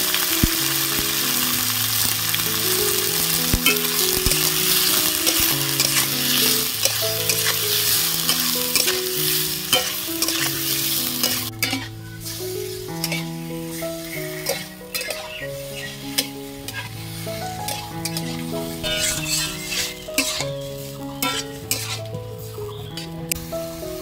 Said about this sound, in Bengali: তো দেখো, টমেটোটা ভালো করে ভেজে নিয়েছি।